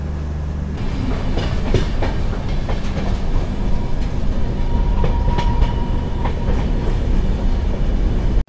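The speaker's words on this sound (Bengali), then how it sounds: "এখন আমাদের গাড়ি পাহাড়ের মধ্য দিয়ে সুরঙ্গ দিয়ে পাস হবে" The Amravati Express passenger train runs through mountains near Castle Rock station toward a tunnel, with a loud, steady rumble and rhythmic clatter of wheels on rails heard from on board until it cuts off abruptly.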